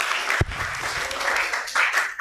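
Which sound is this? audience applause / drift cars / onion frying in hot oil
audience applause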